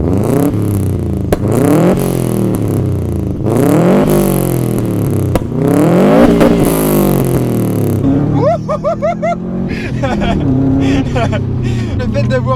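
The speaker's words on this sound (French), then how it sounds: "certains se plaignaient de ne pas entendre le son de cette Subaru" A Subaru WRX engine revs hard through repeated gear changes, rising and dropping in pitch, then settles into a lumpy idle with whistles while a voice speaks over it.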